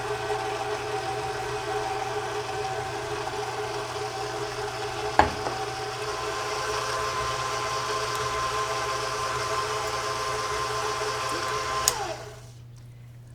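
Stand mixer with a paddle running on low while making devil's food cake batter, a steady mid-pitched motor hum with a faint rhythmic whir, a brief clunk partway through and another just before it stops.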